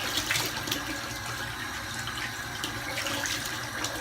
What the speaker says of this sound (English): I'm rinsing with cold water.